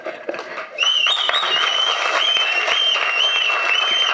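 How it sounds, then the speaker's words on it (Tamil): An audience at a Tamil film event bursts into loud, sustained applause with sharp whistles riding over it, beginning after a short quieter stretch and continuing steadily to the end. "இந்த விசிலும் கைத்தட்டலும் எனக்கு கிடைக்க 12 வருஷம் ஆச்சுப்பா"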